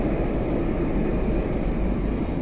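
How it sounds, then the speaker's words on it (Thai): A steady, loud rumble of a moving train from inside a carriage, continuous low roar with no talking. "นั่งรถไฟกลับบ้าน"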